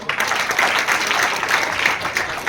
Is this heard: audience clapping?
yes